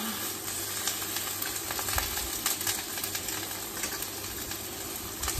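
Tofu fries in a Korean Edelkochen stainless steel 304 tri-ply pan, a steady close sizzle with fine crackling spits throughout and no talk.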